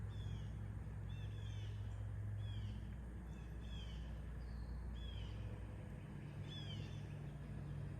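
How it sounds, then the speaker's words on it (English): Wild birds calling outdoors on a rural property, faint repeated chirps and short whistled calls at a distance over a constant low rumble of traffic and yard mowing. "But also listen for these birds."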